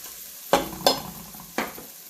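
Sliced onions sautéing in a pan give a soft, steady sizzle, broken by a few louder stirring scrapes, close by and without talk.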